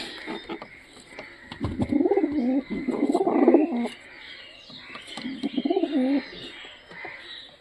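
Pigeons coo in low, throaty bursts nearby, a few calls separated by quieter pauses.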